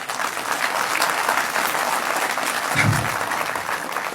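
Dense audience applause fills a hall, steady and loud throughout with a brief swell near the end, with no talk over it.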